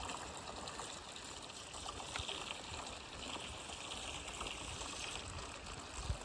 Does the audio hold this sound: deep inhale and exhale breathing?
no